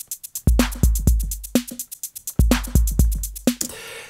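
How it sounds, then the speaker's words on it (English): Programmed electronic drum loop in Bitwig Studio with a shaker playing 16th notes over hi-hats in 8th notes, kick thumping underneath; brisk, tight rhythm, loud and upfront, ending with a brief noisy swell. "What about a shaker in 16th in addition to the hi-hat in 8th notes?"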